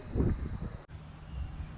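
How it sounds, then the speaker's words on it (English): Steady low wind rumble buffeting the microphone, continuous and fairly loud, with a brief dropout midway and no voices. "it's really windy"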